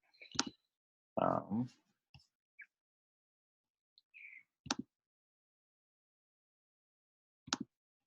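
Mouse clicks while working in Excel: a few sharp, isolated clicks spaced several seconds apart in an otherwise quiet room, with some faint brief noises between them.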